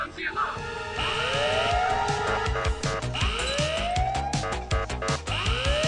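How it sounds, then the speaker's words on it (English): An alarm in the Ice Scream video game, a siren-like sweeping wail that rises repeatedly and loudly over busy game music and effects. "Sound the alarm!"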